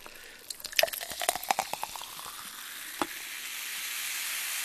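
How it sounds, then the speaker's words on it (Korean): Cola poured into a cup beside a fried chicken takeout meal, a brief glugging splash followed by a steady, close carbonated fizz and crackle that persists to the end, with no talking. "자 콜라 따라 놓고 갈게요"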